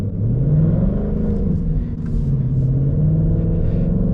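A 2024 Ford Mustang GT's V8 engine roars steadily as it is floored, its pitch rising and dipping as it accelerates, loud and close with no talking.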